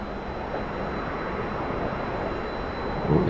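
Steady, close jet roar from a T-45 trainer in the DCS flight simulator game, its engine throttling up and swelling slightly toward the end, with no speech.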